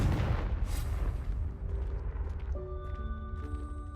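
A Confringo fire spell bursts in the Hogwarts Legacy game, a heavy rumbling blast that swells at the start and rolls on as a sustained low roar, with game tones chiming in near the end.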